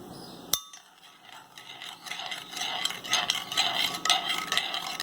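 Yeast being stirred into a milk mixture, a quick knock at the start then a busy run of scraping and clinking strokes against the bowl that grows louder.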